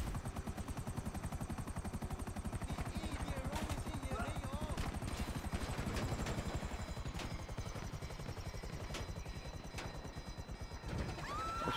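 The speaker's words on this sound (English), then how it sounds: "Chopper is officially done." A helicopter in the Grand Theft Auto V video game chops with a fast, steady rotor pulse throughout, loud and continuous, with scattered gunfire cracks mixed in.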